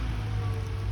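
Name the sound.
rain falling on road construction site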